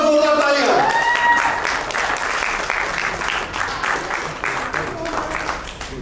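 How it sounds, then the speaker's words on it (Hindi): A crowd at a women's celebrity cricket league event breaks into loud, sustained applause right after a host's voice calls out, the clapping dense and continuous, then thinning slightly toward the end. "जोरदार तालियां"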